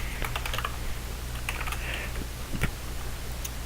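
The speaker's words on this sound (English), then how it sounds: "Now we want to type in line 5 int main" Code being typed on a computer keyboard for a C++ program in Visual Studio: quick bursts of close, crisp key clicks with short pauses, over a steady low hum.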